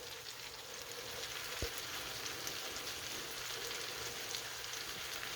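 Apples frying in grease in a skillet, a steady close crackling sizzle with faint scattered pops, one brief low thump near the middle, no talking.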